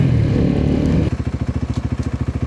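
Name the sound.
motorcycle engine while riding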